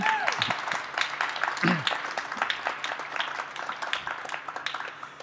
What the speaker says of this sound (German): noch einen kleinen Applaus für den Markus, bitte